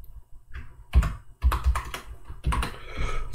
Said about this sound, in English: So for file name, I'm going to type template.